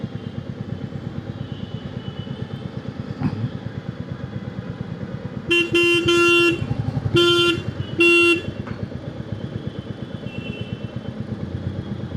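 A car horn honks at a vehicle blocking the way in traffic, sounding three loud bursts over a steady idling engine hum. The first blast is the longest and the next two are shorter.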